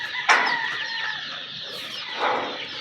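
Chickens and young chicks in a brooder, clucking and peeping in a close, busy mix, with a louder call near the start and another swell toward the end.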